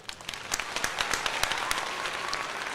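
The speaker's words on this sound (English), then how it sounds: "I'll give you a round of applause for that." A round of applause plays during a live play-by-play stream of the 2025 MLB All-Star Game. Scattered sharp claps thicken into a steady, moderately quiet clatter that lasts about three seconds.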